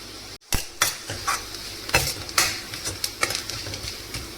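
Ivy gourd pieces fry in oil while being stirred, with a sizzling bed broken by scraping and clinking of a spoon against the pan, close and busy with no talk.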